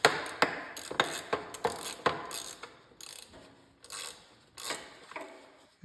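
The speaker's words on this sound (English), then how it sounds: "go ahead and pull these bolts out" Ratchet clicks rhythmically at close range while bolts are backed out on a riding lawnmower, quick runs of sharp ratcheting strokes with brief pauses and softer mechanical rattles between.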